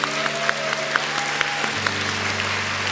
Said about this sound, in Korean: 우리 격려의 박수 한 번 더 할까요?